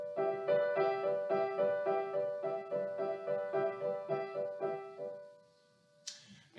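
Solo piano plays a Wagner Ring motive evoking the murmuring water surface: a repeating rippling figure in the right hand, moderately loud and steady for about five seconds, then fading to near silence before a brief faint noise.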